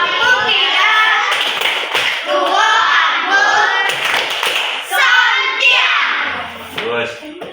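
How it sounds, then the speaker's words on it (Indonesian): Children in a classroom perform a rhythmic clapping cheer, with quick patterned claps and taps mixed with chanting voices throughout. "Silakan kita kasih tepuk sontiang dulu."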